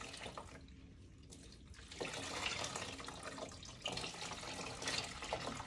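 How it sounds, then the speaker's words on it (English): Cool tap water runs while a bra is rinsed by hand in a sink, a steady splashing flow that swells louder partway through as the fabric moves under the stream. "And then you can just easily just rinse your bra"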